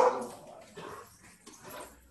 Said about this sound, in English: whenever there's motorcycles going down the street, the dogs just lose their crap